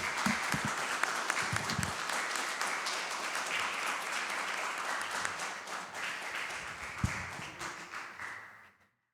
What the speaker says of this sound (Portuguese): Você pode dar um aplauso para o Senhor, querido?